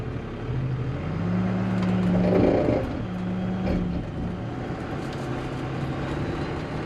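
A Cummins-powered truck that won't shift gears drives slowly toward a hill, its engine a steady low drone that swells for a moment before settling back into a rough, even rumble.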